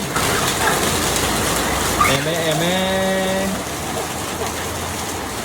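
Rain pours steadily behind a house, with running water gushing in a continuous wash; a brief tonal whine or call rises midway, and a voice can be heard faintly.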